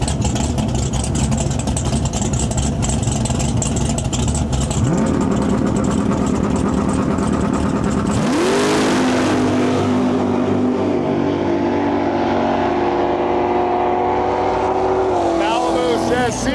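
Drag race pairing a G-body Chevrolet Malibu against a 4th-gen Camaro Z28 on a rough track, loud roaring engines with a rising whine as the cars launch and pull away, crowd and announcer voice mixed underneath.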